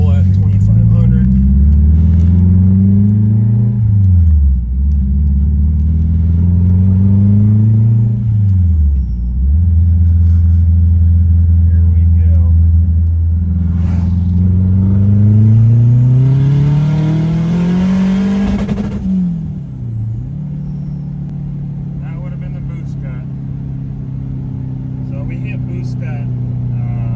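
Turbocharged Acura TSX pulling hard in third gear from 2,500 rpm, loud and close, the engine note climbing repeatedly through the revs with a rush of turbo noise near the top before easing off, with talk over it.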